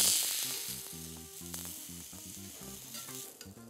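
Tofu fries in a pan with mushrooms and ginger, a steady close sizzle with low intermittent tones, softening slightly over a few seconds, no voices.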